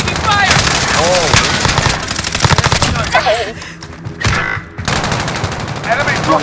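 Rapid automatic gunfire and bursts in Call of Duty: Modern Warfare, loud and sustained with brief lulls, mixed with close shots and shouted voices over the combat.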